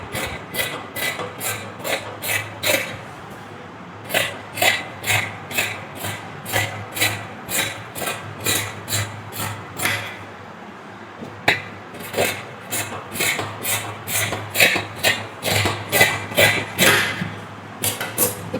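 Scissors snip through churidar fabric to cut out a sleeve, producing a steady run of sharp, close crisp cuts in rhythmic bursts with short pauses between strokes.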